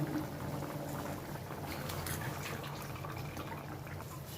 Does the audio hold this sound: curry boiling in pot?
yes